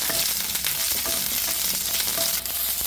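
Ginger, garlic and green chili paste fries in a pan for an okra dish: a loud, dense, continuous sizzle and spatter heard up close, with faint stirring scrapes and no talking.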